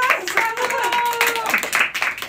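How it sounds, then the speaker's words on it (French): A small group on a French-language news talk show claps for a colleague in uneven, scattered claps mixed with vocal cheers and sounds from the people present. "je pense qu'on peut applaudir Jonas pour ce qu'il vient de faire"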